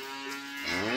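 Cattle bellow in a farm corral, with a steady, loud, drawn-out low call that swells toward the end, close by and with no talk.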